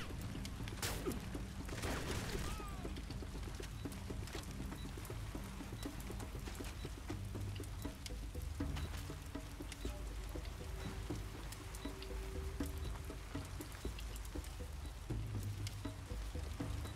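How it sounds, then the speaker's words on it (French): Rain begins falling during a storm in the video game Crysis Warhead, a constant hissing downpour of patter filling the scene evenly from start to finish, with no talking. "C'est juste la pluie qui commence"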